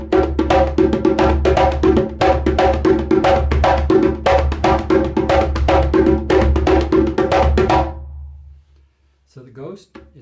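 Djembe rhythm with light ghost taps, a fast, steady run of hand strikes mixing deep tones and quiet taps for about eight seconds, close and fairly loud, then it stops and a few faint sounds follow.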